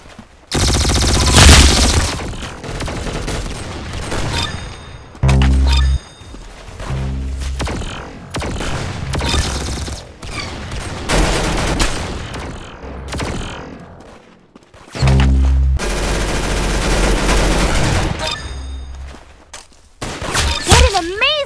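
Bursts of video game gunfire in competitive mode crack out in loud volleys and rapid fusillades, with booming impacts and shattering hits, a voice talking excitedly over parts of the action.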